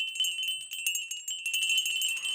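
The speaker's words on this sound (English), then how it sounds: "I've got these two little tiny Noah bells" Two tiny Noah bells pitched close together ring in quick repeated shakes, bright metallic tinkling with sustained high tones, close and fairly loud with no talking.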